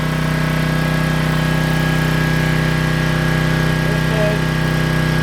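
A 3,500-watt gas generator runs at a steady, loud, unbroken engine drone with a constant hum and no change in pitch or speed.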